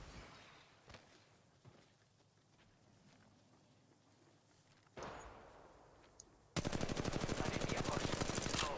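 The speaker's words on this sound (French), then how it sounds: "Je suis sous les tirs" Gunfire in Apex Legends Mobile, with a few scattered shots and thumps at first, then a loud, rapid automatic burst that sounds close and continuous to the end.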